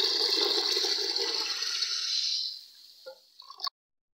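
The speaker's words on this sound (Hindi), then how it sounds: "अब मैं इसमें 2 लीटर पानी शामिल करूंगी" About two litres of water is poured into a pressure cooker holding moong dal and spices. A loud, rushing splash runs for over two seconds, then fades into a few last drips and trickles.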